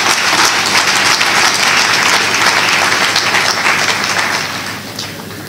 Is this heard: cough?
no